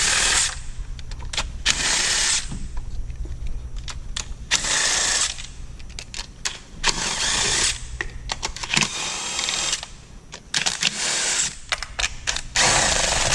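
Wobble socket on an extension turning valve cover bolts on a 180k-mile BMW N20 engine, with bursts of ratcheting and clicking separated by short pauses, close and fairly loud.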